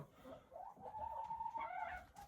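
Chickens in a barn during cold weather cluck and murmur softly nearby, a hen giving a drawn-out, warbling call over a low, quiet background.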